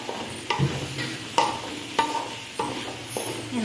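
Chicken for chilli chicken frying in a pan and being stirred, a low sizzle punctuated by regular scraping strokes of a spoon roughly every half second to second, close and moderately quiet.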